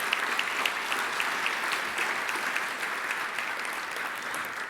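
A crowd at an anniversary celebration program applauds steadily, a dense, even wash of many clapping hands heard from a moderate distance and holding at the same level for nearly five seconds without voices over it.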